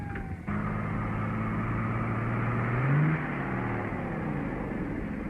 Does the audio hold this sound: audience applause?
no